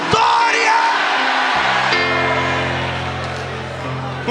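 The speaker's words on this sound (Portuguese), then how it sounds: "Quem é da tribo de Levi, dá um grito de vitória." A church congregation lets out a loud, sustained shout of victory, many voices yelling and whooping together in a packed sanctuary, with sustained organ or keyboard chords rising beneath the crowd.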